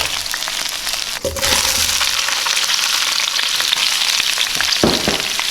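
Vegetables hitting leftover oil and chicken juices in a hot pan for Thai red curry chicken, a sudden burst into loud, steady, close sizzling with crackles and a brief scrape near the end.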